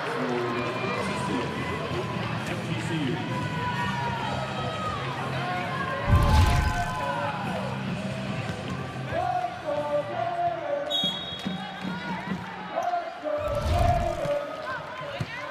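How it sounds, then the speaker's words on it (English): Home crowd at an NCAA women's volleyball first-round match for Florida against Florida Gulf Coast, a steady roaring hubbub of cheers and yells throughout, with louder surges and thumps around the middle and near the end. "Crowd trying to urge on this home-standing Florida team"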